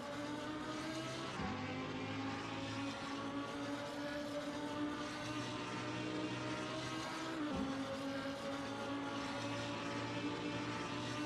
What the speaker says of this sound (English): Engines revving, tension rising